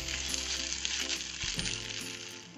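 Poha cooks in a pan with a moderate, even sizzle and faint stirring noises, over a steady tonal hum in the background.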